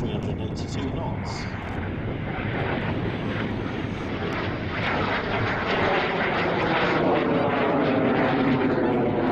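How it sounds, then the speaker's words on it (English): A vintage jet powered by an Armstrong Siddeley Viper turbojet flies past at an airshow, a loud sustained roar that swells steadily, while an announcer talks over the public address. "An Armstrong Sidley Viper turbojet powered the engine, giving it a top speed of about 440 miles an hour"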